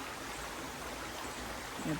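Steady broadband rush of creek water flowing outdoors, a continuous close wash of moving water with no distinct splashes, filling the whole stretch at an even level.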